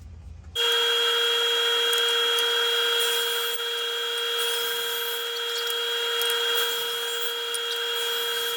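A saw with a regular blade cuts a dado into pallet wood in a loud, steady whine that starts abruptly and holds for several seconds with slight rubbing variations, with no talking.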